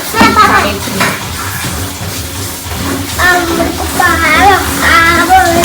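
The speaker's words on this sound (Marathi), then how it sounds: "बघू शकता इथे कसं फ्राय होत आहे" Prawn curry masala fries in a pan with a steady sizzle and crackle while a spoon stirs and scrapes, and a person talks over the cooking.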